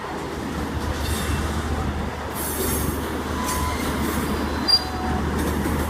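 The Indian Pacific passenger train rolls past with a car carrier wagon at the rear, giving a continuous rumble of wheels on rail with faint squeal and clatter at moderate distance.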